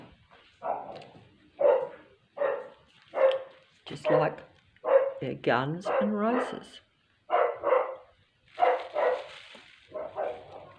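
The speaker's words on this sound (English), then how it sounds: "And they're annoying those dogs out there too." Dogs bark in a steady series of sharp yaps, some overlapping, while a person speaks over them.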